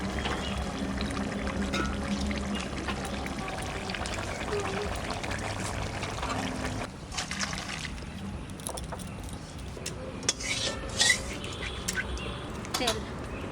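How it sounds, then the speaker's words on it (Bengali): A hot cumin-and-oil tempering is poured into a river bata fish curry with thankuni leaves and fried fish, making a steady close sizzle that breaks into sharper spattering crackles partway through. "এবার ফোড়ন দেবো ঢেলে।"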